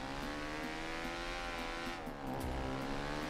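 A dirt bike engine in GTA RP revs steadily with a buzzing harmonic drone, dipping briefly and then climbing again, loud and continuous with no talk over it.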